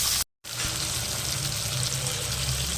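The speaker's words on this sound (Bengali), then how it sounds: "লাল লাল করে পুরো মাছ কটা ভেজে নেবে মাছগুলো ভাজা হয়ে যাক" Steady, dense sizzling of bhetki (barramundi) fish frying in hot oil, loud and close, with a brief silent gap near the start.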